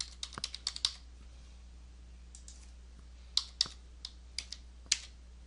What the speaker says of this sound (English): we're going to type the position numbers from keyframe 1 into keyframe 2